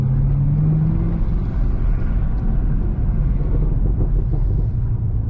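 A Chevrolet Camaro ZL1 engine rumbles steadily during a test drive, a deep, continuous low drone with a brief tonal whine early on, close and even in loudness throughout.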